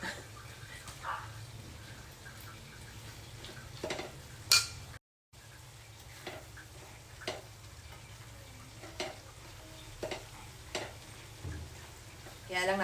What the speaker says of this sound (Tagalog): Pag kumukulo na, ilagay na natin yung ating isda.